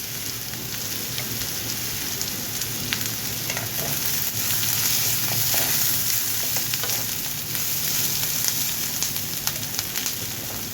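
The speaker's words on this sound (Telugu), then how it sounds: "మరి కొంచెం ఉల్లిపాయలు వేగాలి. ఉల్లిపాయలు వేగాయండి." Onions with a pinch of salt fry in a pan with a dense, continuous sizzle and crackle, like light rain on a surface, steady and close for the whole stretch without any talking.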